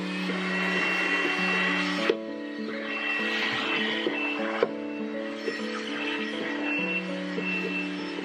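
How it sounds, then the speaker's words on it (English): A household vacuum cleaner runs in a small bedroom being decluttered, a steady loud motor drone with a few brief bumps and shifts in tone as it moves, no talking over it. "Oh, I need to vacuum."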